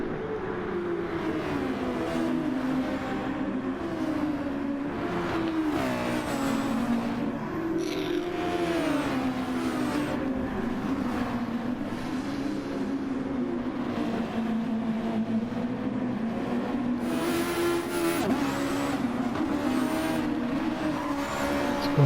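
A close train of several race cars in a sim racing event drones past together, engine notes rising and falling through gear changes, loud and continuous with brief tire noise and no talking.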